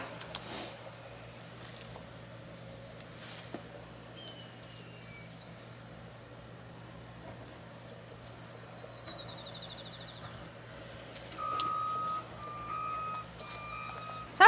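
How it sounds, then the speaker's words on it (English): Road construction machinery works some distance off beside a garden, a steady low engine drone underneath with intermittent electronic reversing beeps that grow louder near the end, and no one talking. "They are working on a road over here, and there's all kinds of machinery over there."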